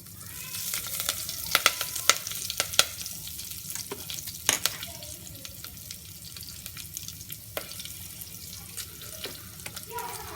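A tempering of oil with red chilli and curry leaves sizzles and crackles in a pan for dal, a steady frying hiss broken by sharp pops and spatters, fairly close.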